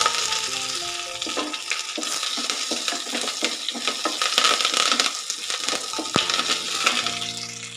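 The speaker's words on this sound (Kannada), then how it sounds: "ಈಗ ಕರಿಬೇವನ್ನು ಸಹ ಸೇರಿಸ್ಕೊಂಡು ಅದನ್ನು ಕ್ರಿಸ್ಪಿ ಆಗೋರು ಫ್ರೈ ಮಾಡ್ಕೊಳ್ಳೋಣ" Peanuts and curry leaves frying crisp in hot oil, with a busy crackling sizzle and repeated clinks and scrapes of a spoon stirring against the pan, close and loud throughout.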